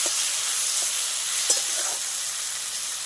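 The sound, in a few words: potato, onion, tomato and green chilli frying in a pan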